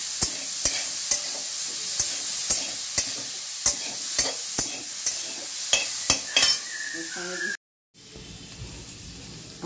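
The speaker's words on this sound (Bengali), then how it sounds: "আমি পেঁয়াজটা ভাজি, আপনারা দেখতে ফিরে আসছি।" Onions fry in oil with a steady sizzle under regular spatula knocks and scrapes against the pan, the stirring strikes coming roughly every half second before a short cut, then the sizzle continues more quietly.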